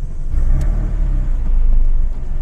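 A Porsche 911 996 GT3 engine fires up and revs, a deep loud rumble rising and swelling close by throughout the short stretch, with no talk.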